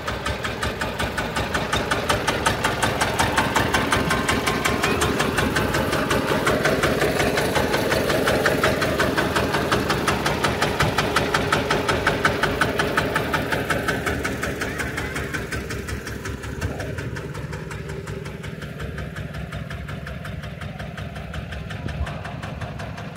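A Porsche Junior tractor's engine runs steadily in first gear, a rapid rhythmic diesel chugging close by that stays loud and even throughout, easing slightly toward the end.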